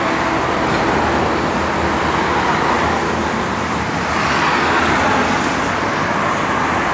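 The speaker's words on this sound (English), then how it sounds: "You see the traffic driving down the road" Continuous roadway traffic passing beside a parked 1967 Dodge Coronet R/T with steel wheels and dog dish hubcaps, a steady broadband wash of car and engine noise that swells slightly midway, with no talk over it.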